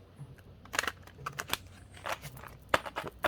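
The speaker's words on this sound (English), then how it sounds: "One more. Last shuffle." Crisp, papery snaps and riffles in short bursts as a deck of cards is shuffled close by, with brief pauses between.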